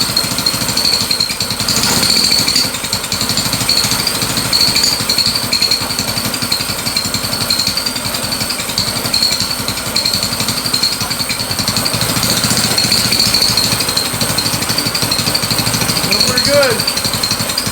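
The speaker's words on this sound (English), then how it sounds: "Start her up for you and give you a little rev." A go-kart engine fitted with a new exhaust and an unadjusted carburetor runs in a loud, rapid, rattling putter. The sound stays steady with small rises in revs, and voices speak briefly over it.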